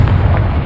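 A short, loud, booming blast from the Confringo fire spell in the Hogwarts Legacy video game, a single deep burst with no talk over it.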